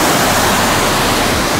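Sea waves surge and crash against a breakwater at a beach resort in Mui Ne, Vietnam, a loud, steady roar of rushing surf close by with no voices.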